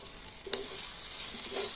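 Flour balls fry in hot oil with a steady high sizzle as they are stirred with coriander leaves, and two soft scraping strokes of the spoon stand out, close up with no talking.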